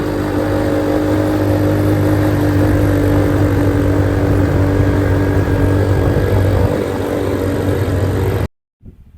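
An ATV and a motorcycle run on Carabao Island, giving a steady, loud mid-pitched engine drone with a faint rev near the end. It holds for about eight seconds, then cuts off abruptly.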